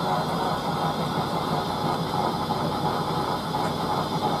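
A red and pink Chad Valley Auto 2 toy washing machine on its spin cycle gives a steady, rattling mechanical whir with a ratchety clicking texture, close and continuous throughout without speech.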